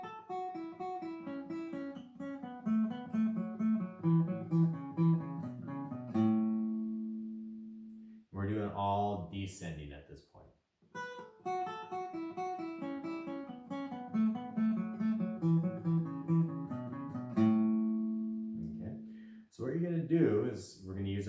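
Guitar plays three-note major pentatonic scale sequences, with a quick run of clear plucked notes that climbs, then a sustained note and a short gap before the pattern repeats twice. The notes are close, clean and alone, with no talk.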